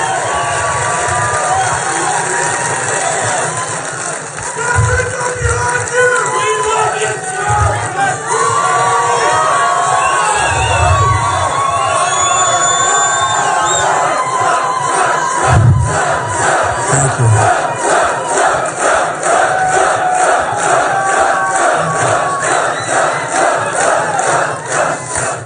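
A large crowd at a Donald Trump rally in Las Vegas roars with sustained cheering, shouting and applause, loud and continuous throughout, with surges and chanting-like bursts.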